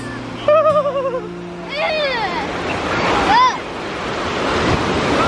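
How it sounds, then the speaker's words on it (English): Ocean surf rolls and crashes with gusting wind buffeting the microphone on a hot beach day; people talk and exclaim over the waves as they grow bigger. "the waves are getting big."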